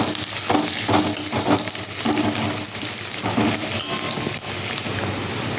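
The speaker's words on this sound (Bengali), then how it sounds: "পেঁয়াজটাকে আমি ভেজে নেব" Chopped onion frying in oil with a little butter, along with minced ginger and garlic: a dense, loud, rain-like sizzle running throughout, with occasional soft stirring strokes and no speech.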